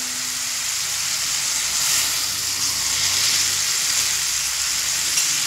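Mourala fish with ground mustard and green chilli paste plus a splash of water sizzles and fries steadily in a pan, a continuous close hiss with no talk.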